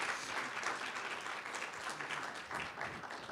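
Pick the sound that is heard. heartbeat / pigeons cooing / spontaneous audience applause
spontaneous audience applause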